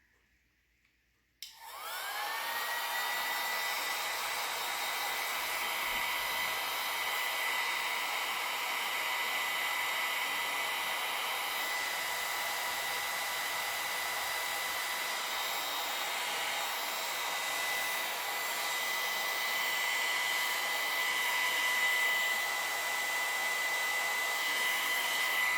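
A hair dryer switches on abruptly and blows continuously at a steady, loud, close whine with a strong airy hiss, holding unchanged for more than twenty seconds.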